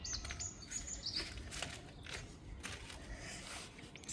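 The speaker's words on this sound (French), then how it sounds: "Prendre le petit déjeuner au soleil, au son des oiseaux." Birds chirp and tweet faintly in the open air on a sunny morning, short high calls scattered over a soft outdoor background hiss.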